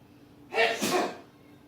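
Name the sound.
sneeze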